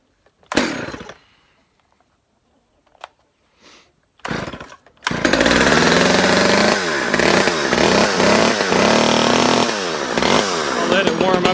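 A Stihl 009 chainsaw being brought back to life: a few short pull-start bursts with gaps, then the engine catches and runs loud and close with rising and falling revs, smoke-prone as it warms.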